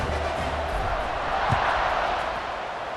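A home crowd in the EA Sports College Football 26 video game roars in a broad, sustained wash of cheering, heard at a distance under faint background noise.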